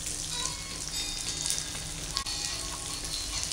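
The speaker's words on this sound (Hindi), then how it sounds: "अब ये खरबूजे के बीज हैं, हम इनको भी इसी में डाल देंगे और ये भी इसी के साथ हमारे भुन जाएंगे।" Melon seeds roast in a pan alongside the besan for laddu, giving a steady, close frying sizzle with faint crackles and occasional stirring scrapes, with no talking.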